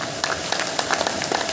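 An audience claps loudly to send off speakers after a talk of story and poetry, a dense, steady patter of many hands close by, with no voices over it.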